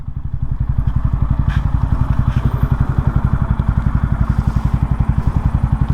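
A TVS Ronin motorcycle engine runs steadily with an even, rapid pulsing thump, loud and close, holding a uniform idle-like beat throughout with a slight clattery edge and no talking.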